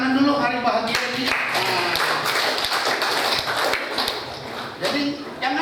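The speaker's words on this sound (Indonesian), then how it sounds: "Coba tepuk tangan dulu, hari bahagia ini." A crowd of guests claps together at a traditional Batak wedding, quick dense handclaps in a steady burst lasting several seconds, with voices audible in the mix.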